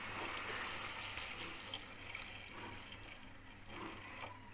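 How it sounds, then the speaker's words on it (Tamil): Rice water poured into a pot of green lima bean and eggplant curry, a steady splashing liquid stream with a soft trickle, close and moderately loud, no talking. "இப்போ நான் எப்போயுமே வந்து அரிசி தண்ணி தான் சேர்ப்பேன்"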